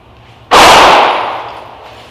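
A single loud gunshot cracks out at a shooting range, a sharp close report followed by a decaying echo after a quiet moment.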